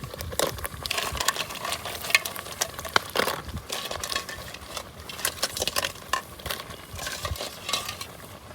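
Crabs frying and being stirred in a pot over a wood-fired stove in a Konkan kitchen, with steady sizzling and repeated scraping stirs of a utensil, fairly close and continuous throughout.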